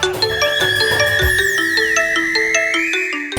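A mobile phone rings loudly at night with a bright, repeating melodic ringtone that fills the room for a few seconds before cutting off, with no talking over it.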